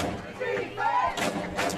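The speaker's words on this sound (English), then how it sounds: "the crowd comes alive calling for defense and a flag" A crowd at a women's tackle football playoff game between Houston Energy and Nevada Storm roars and rumbles in the stands, with swelling cheers and thumping noise under a commentator's voice.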